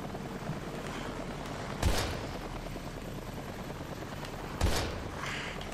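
Two separate gunshots in the horror shooter Daymare: 1998, each a brief sharp crack a few seconds apart, rising out of a quiet, low background hum.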